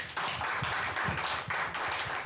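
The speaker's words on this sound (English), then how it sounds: "So tuwapigie makofi." Audience at a food and wine industry session claps in a short, uneven burst, several hands audible close and moderately loud for a couple of seconds.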